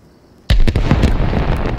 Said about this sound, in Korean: 불꽃놀이 좀 웃긴데요?